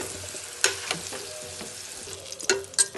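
Potato pieces sizzle in hot oil in a pan while a utensil scrapes and lifts them out, with soft frying hiss and several sharp clinks and stirring bursts close by.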